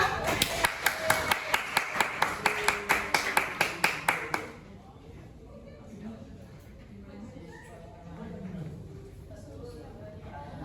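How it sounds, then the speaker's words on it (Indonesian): A classroom group claps in a steady, rhythmic unison beat for a student group for about four seconds, then the clapping stops and quiet murmuring and shuffling follow. "Tepuk tangan untuk kelompok 2."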